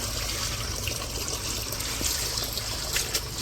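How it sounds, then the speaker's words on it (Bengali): Water poured into a container for chickens, a steady close splashing trickle lasting the whole moment with no talking. "ভরে দিতেছি পানি নিয়ে দিব মুরগিগুলা"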